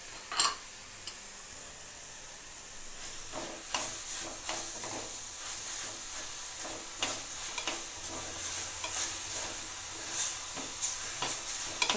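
Grated cucumber and fried peanuts sauté in a pan for sweet Marathi lapshi, a soft continuous sizzle broken by repeated stirring scrapes and light clicks, close up with no talking.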